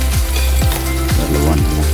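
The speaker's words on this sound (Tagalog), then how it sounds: "Piniprito ko na." Food fries loudly in a pan in a home kitchen, a dense, continuous sizzle over a low droning hum with a few soft rhythmic swishes.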